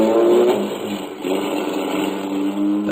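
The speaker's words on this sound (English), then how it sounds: "The car shot out of a side street only moments after I heard it start." Radio drama sound effect of a car starting and speeding past on a cold, snowy January evening: a loud, close engine rises in revs, dips briefly, then roars on steadily as it passes.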